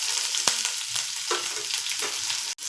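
Curry leaves, onion and two green chillies sauté in a hot pan with mustard seeds, a loud continuous sizzle broken by spoon scrapes and a sharp knock near the end; no voices.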